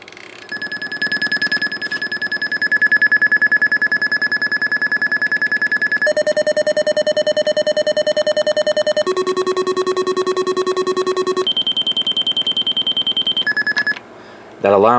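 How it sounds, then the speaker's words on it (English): A weather radio sounds loud steady electronic alarm tones that switch pitch in several stages during a siren test, pausing briefly before a final tone. "I might as well also do a siren test on this guy,"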